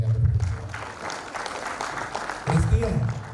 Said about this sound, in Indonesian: Mari beri tepuk tangan untuk mereka berdua